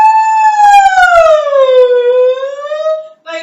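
A human voice imitates a siren, a loud sustained wail that slides downward then rises again, alone and close.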